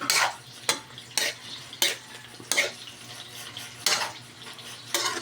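Pancit noodles simmering in a pan, stirred in regular scraping strokes about once a second, close and clear over a low bubbling background.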